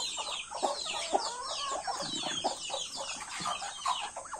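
Chickens clucking in a small backyard where ducks are also kept, a steady chorus of soft, overlapping clucks and brief calls at moderate distance with no talk.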